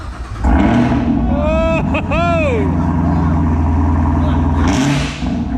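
A Chevy Silverado 3500HD dually pickup with a Duramax diesel engine revs hard up close, its exhaust roaring and the pitch rising and falling over several seconds, with a short exclamation over the engine.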